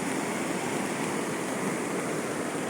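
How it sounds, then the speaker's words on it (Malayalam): Torrent of flood water rushing past after the Chooralmala landslide, with the river overflowing its banks; a constant, dense roar of churning water, loud and unbroken throughout, with no voices. "വെള്ളത്തിൻ്റെ കുത്തൊഴുക്കാണ്"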